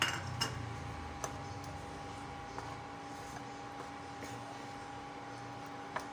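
A spoon mixes chili sauce and ketchup in a bowl while making barbecue sauce, giving a few faint, sparse clinks against a low, steady kitchen background.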